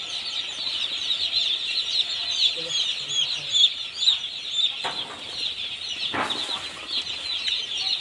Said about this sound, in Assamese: ফাৰ্মত এয়া আমাৰ পোৱালি আহি গ'ল